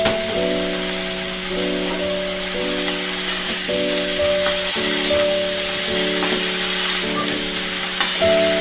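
Pumpkin greens, seasoned with ground black cumin, go into a hot oiled pan and sizzle steadily, a close, continuous crackle with a faint tonal hum running underneath.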